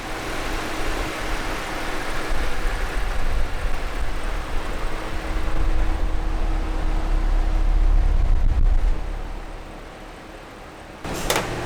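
A Cadillac CT5-V Blackwing engine runs on a dyno with a loud, steady low rumble that builds slightly, then eases off near the end before a brief clatter.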